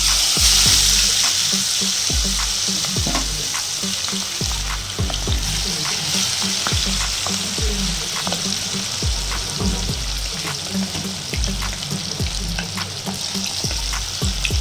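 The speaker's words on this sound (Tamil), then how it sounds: "இப்போ நல்லா இது பொரிட்டு பாருங்க, சில்லி சிக்கன் ரெடி ஆயிடுச்சு." Chilli chicken pieces frying in hot oil, a dense steady sizzle and crackle with occasional stirring clatter, close and loud throughout with no talking.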